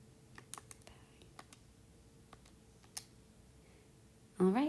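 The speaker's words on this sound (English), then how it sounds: "let me type it in one more time" Quiet, sparse key taps on a computer keyboard, scattered clicks with gaps between them, ending as a voice begins speaking.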